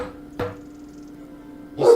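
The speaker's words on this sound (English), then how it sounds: "Apologies for my dog." A dog barks indoors during a video game stream, giving two short, fairly loud barks about a second and a half apart against a quiet room with a faint steady hum.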